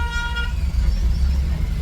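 Road traffic jam with a car horn tooting briefly at the start over a continuous low rumble of idling and moving vehicles nearby.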